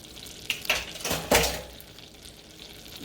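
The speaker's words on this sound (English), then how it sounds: "You want to make sure you stir this so it don't stick." A sugar mixture for bread pudding is stirred in a pot, giving a few quick scraping and clinking strokes close by, then a quieter steady hiss.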